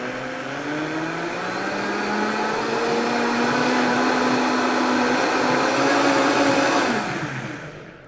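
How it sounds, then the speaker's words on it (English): A countertop blender whirs steadily through a green smoothie, starting low and rising in pitch as the speed increases, loud and close with a constant motor hum and no voices. "Okay, now I'm gonna blend this. So on your blender, start on low and then you can increase the speed."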